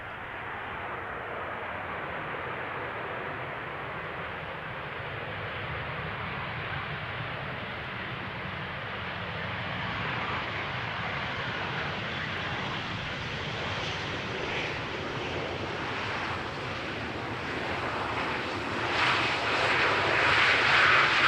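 A Transavia Boeing 737 lands on runway 18R at Amsterdam Schiphol, its engine roar building steadily from a distant hiss to a loud rushing rumble as it passes near.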